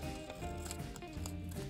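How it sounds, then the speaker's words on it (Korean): Scissors cut colored origami paper along a pencil-marked line at close range, a steady run of crisp snips and rustles that fills the clip with no speech. "가위로 표시한 선."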